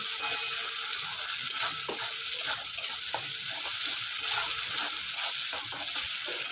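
A spatula mashes soft, melted tomatoes in a pan of fish curry over a steady close sizzle, with repeated light scraping taps against the pan.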